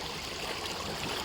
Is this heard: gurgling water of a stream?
yes